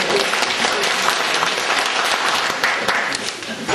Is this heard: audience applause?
yes